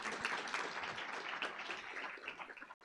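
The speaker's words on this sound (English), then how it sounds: "Yes, we can clap for them too." Audience applause at a dedication ceremony for a university gender and equality center, a dense, steady wash of many clapping hands lasting nearly three seconds before cutting off abruptly.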